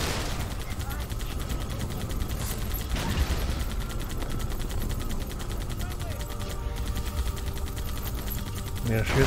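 Rapid turret gunfire from the Halo video game rattles on without a break, loud and dense, with game effects layered over the shots.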